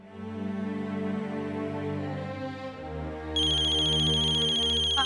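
A melodic electronic phone ringtone plays steadily and loud, its tune shifting partway through with a brighter, higher chime layered on top.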